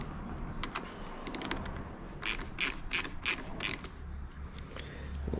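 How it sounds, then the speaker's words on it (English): A ratchet tightens the top bolt of a Peak cellphone mount. Several quick bursts of sharp mechanical clicking come in short, evenly spaced strokes, close and clear, with no talking. "So FDR, let's tighten up this top bolt."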